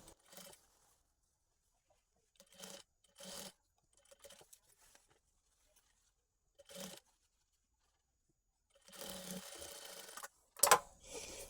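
A sewing machine stitches a collar onto a uniform dress in short separate bursts of whirring with long quiet gaps, ending in a longer, louder run.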